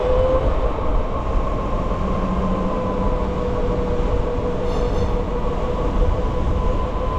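Electric motorcycle accelerating under a rider, a steady whining drone with rushing wind noise that holds loud and constant throughout, no talking.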